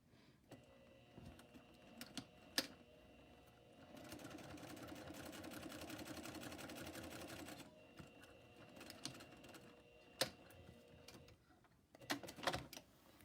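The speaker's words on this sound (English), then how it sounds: "Threaded. Okay, so we just want to stitch right on that line." A sewing machine stitches a shirt seam in one steady run of about four seconds, fairly close and continuous, with a few sharp clicks and handling knocks before and after it.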